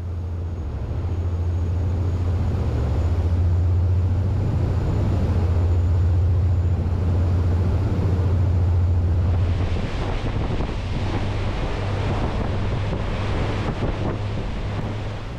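A Pershing GTX 116 performance yacht cruises at 20 knots off Cannes with engines just over 1,900 RPM. A steady low engine drone sits under constant rushing wind and water noise, with the hum easing partway through.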